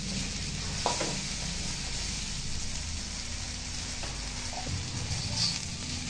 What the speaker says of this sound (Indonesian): Tumis di minyak panas.